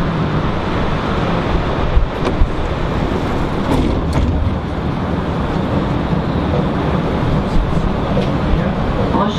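A Montreal Metro MR-63 train runs through a tunnel with a loud, continuous rumbling roar from inside the car, broken by a few brief clanks and knocks, with no talk.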